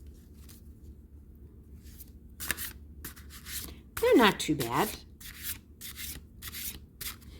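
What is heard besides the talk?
shuffling large tarot cards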